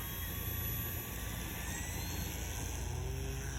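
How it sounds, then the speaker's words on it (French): A light aircraft engine drones loud and steady at full power during a touch-and-go climb-out, a constant close roar with no pauses. "Voilà, allez, on redécolle, on tire sur la profondeur"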